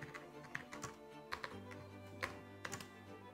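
Quick tapping on a computer keyboard while entering text into Photoshop, faint and close, in irregular bursts of a few keystrokes with short pauses and no talking.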